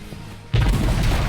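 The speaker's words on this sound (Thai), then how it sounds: "สกิลที่หนึ่งเป็นการปล่อยอุกกาบาตออกมานะครับ" A meteor skill in the Roblox game Cursed Arena detonates with a sudden loud boom after a brief quiet lead-in, followed by a heavy rumbling roar that carries on to the end.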